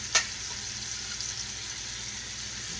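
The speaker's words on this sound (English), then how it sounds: "you leave that grease in there and put your little flour here and there" Hamburger grease with a little flour sprinkled in gives off a soft, steady sizzle in a skillet, a faint close hiss with one sharp click near the start.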